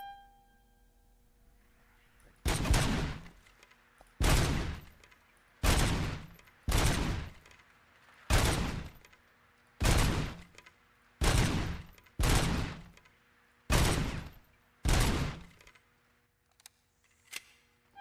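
Pistol shots fired in Diablo 4, eight loud, evenly spaced blasts roughly every second and a half with short tails, followed by a couple of faint clicks at the end; no talking.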